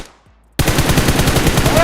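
Loud, sustained automatic gunfire in PUBG Mobile erupts after a half-second of near silence, a rapid unbroken stream of shots filling the rest of the clip.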